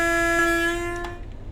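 A Class 31 diesel locomotive in the Train Sim World 4 game sounds a sustained two-tone horn blast close up, which cuts off after about a second and leaves a faint rumble.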